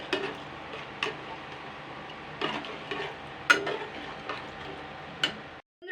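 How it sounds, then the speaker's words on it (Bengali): Spicy chicken feet curry with potatoes being stirred in a pan, a quiet simmering sizzle broken by several sharp scrapes and clinks of a spoon against the pan at irregular intervals, close by. "এই আলুটা দিয়ে এবার আমি ভালো করে নাড়াচাড়া করে নেব"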